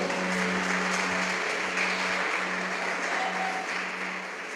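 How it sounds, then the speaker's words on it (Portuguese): Church congregation claps in a steady, sustained round of applause that fills the hall evenly, tapering slightly toward the end. "Você pode dar um aplauso para o Senhor?"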